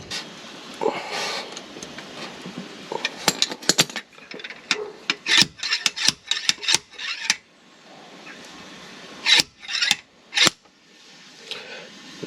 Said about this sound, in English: We screw our slide hammer on the end there